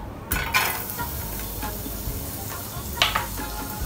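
Ginger and garlic sizzle steadily in hot oil for fried rice with chicken, a continuous close crackle with a few sharper spatters and stirring scrapes, no voices.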